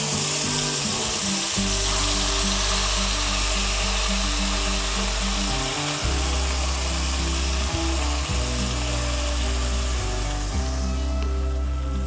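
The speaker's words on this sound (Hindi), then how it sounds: "इसे हम मसाले को अच्छी तरह से भून लेंगे" A continuous loud sizzle of a ground tomato, onion and green chilli paste frying in hot oil for chicken curry, with a low droning hum and faint clinks underneath.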